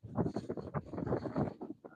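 Wind blowing hard outdoors on a catfishing outing, a steady rushing buffet against the microphone that rises and falls in gusts across the whole stretch.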